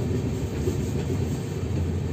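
The Kanchan Kanya Express pulls out of Kamarkundu station, a continuous low rumble of rolling train cars heard from on board, steady and close with no talk.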